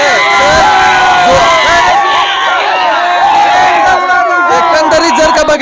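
Party workers outside the office of MP Dhairyasheel Mane shout and cheer in a dense, loud crowd roar, with many overlapping voices merging into a constant din.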